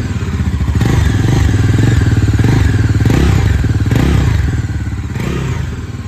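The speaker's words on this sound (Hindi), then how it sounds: "और थोड़ा सा रेव करके दिखाता हूँ।" A Bajaj Pulsar NS400Z motorcycle with a 400 cc engine revs up close and loud, its throbbing exhaust note rising and falling through several blips over a steady idle pulse.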